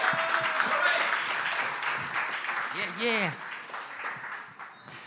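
A podcast studio audience applauds guests, with clapping and cheering running under a man's speech; a brief whoop rises partway through, then the sound thins out toward the end.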